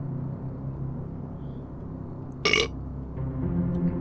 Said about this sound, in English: You know those burps where, like, it's just, you got more taste than you bargained for?